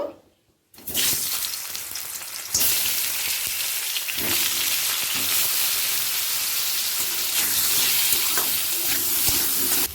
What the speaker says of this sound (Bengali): আলুটা হালকা লাল করে ভাজা হয়ে গেছে